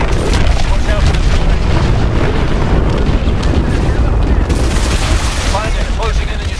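Loud, continuous combat din from a fighter jet firing missiles at a hydroelectric dam's hard points in the Advanced Warfare video game, with booming blasts and rattling bursts layered over engine roar and radio chatter.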